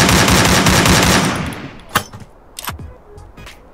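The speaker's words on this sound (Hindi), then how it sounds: "तो हम AK का साउंड सुनते हैं" Rapid burst of AK assault rifle fire in the video game Free Fire MAX, loud and dense for about a second and a half, then fading into a few isolated shots and mechanical clicks.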